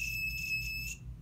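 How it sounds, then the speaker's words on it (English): An electric buzzer wired to a battery for a homemade door alarm gives a steady, high-pitched electronic tone that holds for about a second and then cuts off, over a low background hum. "how can we make it so that the buzzer goes off when I open the door?"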